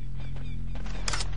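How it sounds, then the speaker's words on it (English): A sniper rifle firing in the game Turok 3: Shadow of Oblivion, heard as one brief crack near the end over a steady low game hum. "It's my sniper rifle."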